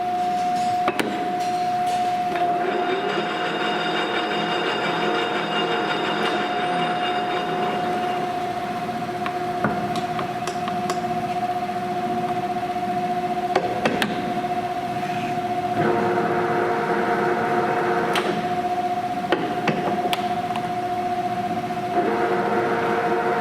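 A large Leblond sliding gap bed lathe with a big chuck runs up toward 856 RPM, giving a steady, sustained mechanical whine and hum with a few sharp clicks along the way. No one speaks.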